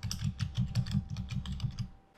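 Rapid, irregular keystrokes on a computer keyboard, close and fairly quiet, tapering off at the end with no talk.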